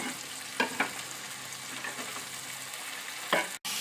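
Veal, onions and carrots sautéing in a pan, a close, steady sizzle broken by a few scraping stirs of a utensil against the pan.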